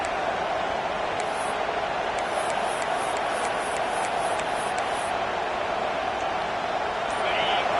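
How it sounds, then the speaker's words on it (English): A college football video game stadium crowd, Florida State against Alabama, roars as a steady, dense wall of cheering that runs throughout, with a commentator's voice over it. "the crowd coming to life here, trying to help this defense down in the red zone"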